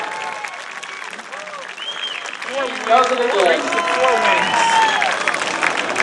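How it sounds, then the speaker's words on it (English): Crowd applause and cheering at New Smyrna Speedway for Sportsman race winner Patrick Thomas, a broad steady roar building under an announcer's voice with crowd noise throughout. "Let's give him a round of applause."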